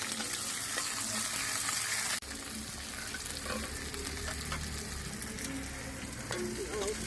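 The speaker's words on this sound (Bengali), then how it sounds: "এবার পেঁয়াজ গুলো দিয়ে দিচ্ছি" Onions frying and sizzling in a pan during rooftop cooking in winter, a steady loud hiss throughout with a sharp burst at the start as they hit the hot oil, then continuous crackle with occasional stirring clicks.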